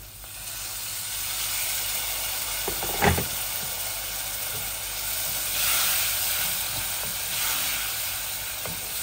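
Spice masala sizzling and hissing in a pan just after water is added, for a vegan vegetable curry, a loud steady fry with brief stirring scrapes, no voices.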